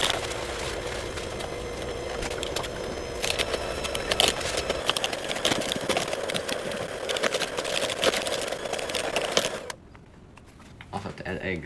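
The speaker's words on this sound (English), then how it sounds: "Okay, mixer." Electric hand mixer beating cake batter with sugar, a steady whirring motor running loud and close for most of the stretch before cutting off near the end, with some talk mixed in.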